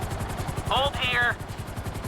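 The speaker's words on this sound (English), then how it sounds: "Just hold the chopper here." A helicopter hovers in the game GTA 5, its rotor thudding in a steady fast pulse, with a voice speaking briefly over it partway through.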